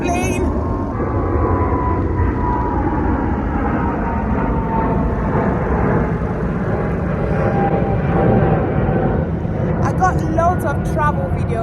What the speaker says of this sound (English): oh, there's a big plane.